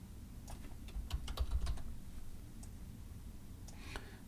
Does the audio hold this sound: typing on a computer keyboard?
yes